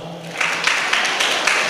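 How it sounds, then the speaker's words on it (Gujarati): A seated audience of parents at a school gathering claps together, a dense, fairly loud patter with a loose rhythmic pulse. "આ લોકો માટે તાળીઓ પાડો"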